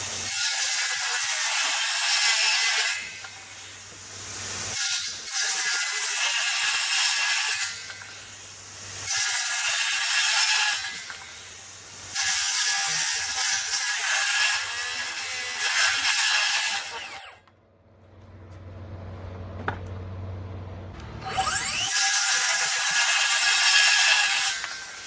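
A Kobalt XTR or Ryobi brushless circular saw cuts wood in repeated bursts, a loud, high-pitched whining rip with a motor hum running underneath between cuts and one brief quiet gap.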